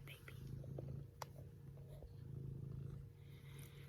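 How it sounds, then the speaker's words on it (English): A cat purrs softly and continuously close to the microphone, a low rumbling drone with a few small clicks and a faint voice-like murmur in the background. "If you hear purring, it's her."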